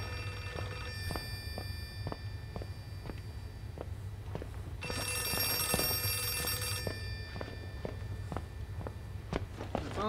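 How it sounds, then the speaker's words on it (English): A telephone rings repeatedly in a regular pattern inside an Outlast 2 horror game scene, with footsteps tapping underneath and a brief burst of broadband noise midway. "The phone's ringing in the shiny room, so that must be a trap"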